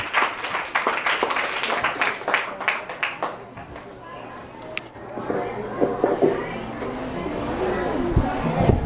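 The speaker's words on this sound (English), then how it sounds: "A round of applause, please." A crowd at a debate claps and applauds steadily for several seconds, the clapping dense and fairly close, with some murmuring underneath.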